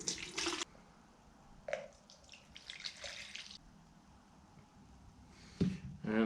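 Water poured from a container into a mixing vessel for a 50-50 water and methanol blend, with short bursts of splashing and trickling separated by quieter gaps and a final brief pour near the end.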